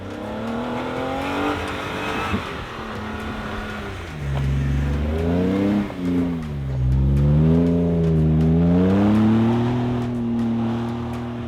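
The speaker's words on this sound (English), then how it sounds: "For sound, we got MagnaFlow exhaust." A Jeep JK engine with a throaty MagnaFlow aftermarket exhaust idles low, then revs up in rising and falling surges, a deep rumble that stays close and steady.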